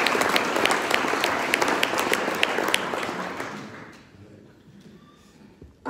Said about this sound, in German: Sie dürfen klatschen.